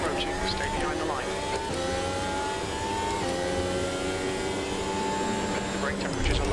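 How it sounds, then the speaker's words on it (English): F1 car in a racing video game approaching from behind, a continuous high engine whine with shifting pitch under steady speech. "There's a car approaching. Stay behind the line."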